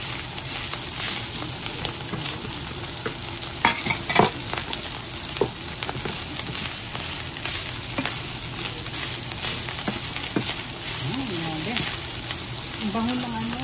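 Fried rice sizzles steadily in a hot pan while a utensil scrapes and stirs it in irregular strokes, close and continuous, with a voice speaking briefly over the cooking.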